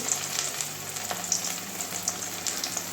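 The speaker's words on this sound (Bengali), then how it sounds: "এবারে ভেজে নেব হালকা আস্তে করে এইভাবে তেলে দিয়ে দেবো" Gram-flour stuffed teasel gourd frying gently in oil over low heat, a steady close sizzle with soft crackles and faint stirring, no talking.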